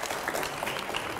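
A short burst of steady applause from a crowd, clapping evenly throughout.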